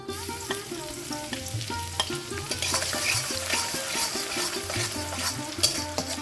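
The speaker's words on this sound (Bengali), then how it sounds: "এবার দেখো এই তেলের মধ্যে সবার প্রথমে আমি দিয়ে দেবো রসুন কুচিগুলো" Chopped garlic sizzles in hot oil, the frying hiss joined by brisk, rhythmic stirring and scraping strokes throughout, close and fairly loud with no speech, as for a mixed street-style chowmein.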